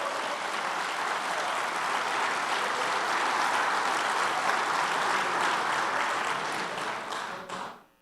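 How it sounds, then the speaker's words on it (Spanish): A large church congregation applauds steadily and loudly for several seconds, a dense wash of clapping that fades out abruptly at the end. "Den un aplauso al Padre"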